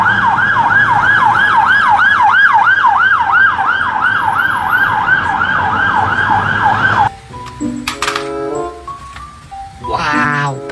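A toy police car siren wails in a fast, loud, steady up-and-down pattern before cutting off abruptly, followed by shorter chirping electronic tones from the toy.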